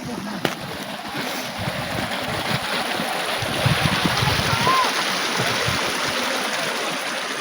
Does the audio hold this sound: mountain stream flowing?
yes